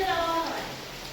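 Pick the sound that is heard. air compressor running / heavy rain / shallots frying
heavy rain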